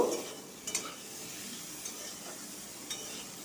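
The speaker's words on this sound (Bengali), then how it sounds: "এবার শাকগুলোকে দিয়ে দিলাম শাকগুলোকে দিয়ে একটু নাড়াচাড়া করে নেব" Leafy greens are stirred and fried in a pan with ground coriander, cumin and dried red chilli paste. A steady sizzle runs throughout, with a few soft scrapes of a spoon against the pan and no talking.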